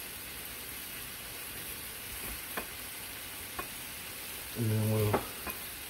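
Canned vegetables sizzle in a pan with a steady frying hiss, broken by a few clicking stirs and a brief low rumble near the end, while a voice speaks briefly at the start.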